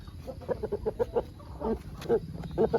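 Chickens clucking in a rapid series of short, close calls, several quick bursts one after another.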